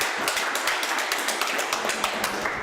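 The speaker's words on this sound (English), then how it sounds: "I have a round of applause for Kim." A small audience at a Denver Node.js programming meetup claps steadily, a dense, even patter of applause that holds throughout the short stretch without voices.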